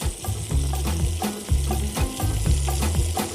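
Cod fillet sizzles loudly in a hot pan, with a dense constant frying hiss and regular knocks and scrapes from the pan or utensil every half second or so.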